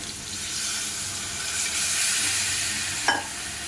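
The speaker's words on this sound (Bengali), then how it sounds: "আর একদিকে হচ্ছে বেগুন ভাজা" Eggplant fries in a pan with a soft, steady sizzle under a faint hiss of running water, and a short clink sounds near the end.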